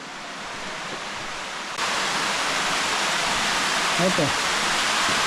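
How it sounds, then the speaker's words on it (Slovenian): An underground waterfall roars inside Belojača cave at Slovenia's easternmost gorge, a steady rushing wash of water that swells louder partway through, with a brief voice over it. "Jamski slap, dobro čudno."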